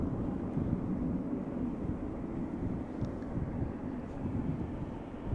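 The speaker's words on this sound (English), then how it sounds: "British Airways Flight 2541 A321, destination London Gatwick" A British Airways Airbus A321, nineteen years old, lined up in the distance at Schiphol Airport, gives a steady, broad low rumble of engine noise that holds at an even level throughout, with some wind on the microphone and no talk.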